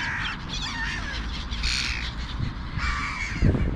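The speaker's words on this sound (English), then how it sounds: "I think you're too surrounded by those gulls." Gulls calling raucously over a lawn at dusk, harsh overlapping cries coming in repeated bursts, fairly close and loud against a steady low outdoor rumble.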